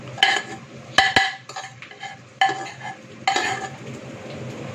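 Cooked basmati rice being scooped between plates and a pan, with several sharp metallic clinks and scrapes of a utensil on cookware, separated by quieter pauses over a faint background hiss.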